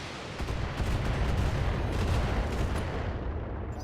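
Mech weapon fire in the BattleTech video game, a dense, rumbling barrage of heavy cannon and missile blasts that blur into a sustained roar lasting several seconds, loud and close, no talk.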